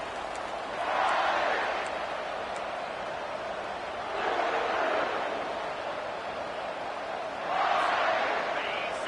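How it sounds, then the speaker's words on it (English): A large football stadium crowd roars in a distant, steady wash of noise, swelling in three louder surges of cheering. "It's early, but this crowd is fired up. Listen to this noise here."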